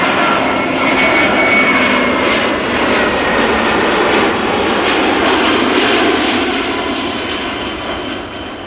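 An Airbus A380 arriving on runway 06 at Amsterdam Schiphol, a loud, sustained jet engine roar close by that holds steady before beginning to fade toward the end.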